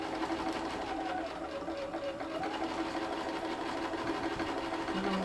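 A sewing machine stitches folded fabric pleats for a Japanese omiyage bag at normal stitch length, its steady close mechanical whir and rapid needle chatter running continuously without a break.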